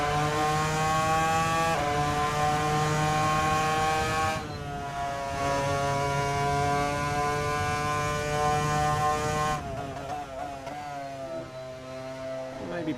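A McLaren MP4-20 race car's high-pitched engine screams through a lap in Assetto Corsa, revving up through gears with abrupt pitch drops at each shift, loud and continuous.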